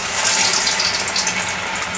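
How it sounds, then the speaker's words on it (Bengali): Gourd-leaf pakora batter dropped into hot oil, giving a loud, dense, continuous sizzle and bubbling hiss that stays close and steady throughout. "তো এইভাবে আমি পকোড়ার আকারে তেলে দিয়ে দিচ্ছি"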